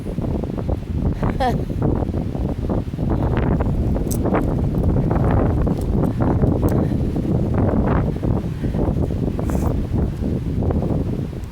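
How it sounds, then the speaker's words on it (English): Strong gusty wind of roughly 25 to 30 miles an hour blows across the microphone beside a river, a steady loud roar that runs the whole time. "I didn't know it was going to be 25, 30 mile an hour wind"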